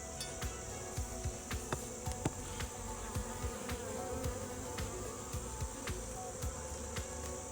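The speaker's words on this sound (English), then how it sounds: "this is a little bit intimidating to be so close to a beehive" Bees swarming close to a beehive, a dense, continuous buzzing hum with many wingbeats darting past near the listener, faint overall with occasional sharp ticks and bumps.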